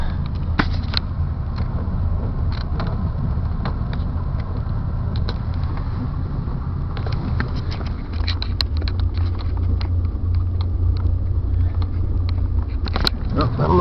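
A car drives through snow in blizzard conditions, a steady loud road and engine drone with scattered crunchy ticks and clicks, while voices talk inside the car.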